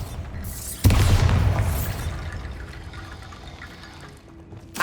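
A Bombarda blasting spell strikes a barricade in the Hogwarts Legacy video game, landing as a single sudden booming crash with a crumbling, rushing debris tail that fades over a few seconds.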